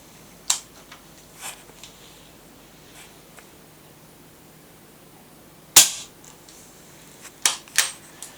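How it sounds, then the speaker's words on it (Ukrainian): Shanghai QB78 air rifle filled to 120 bar firing pellets, with a short snap at the start, a louder sharp crack past midway and two more quick cracks near the end, set against a quiet background. "І так ми зробили 4 постріла."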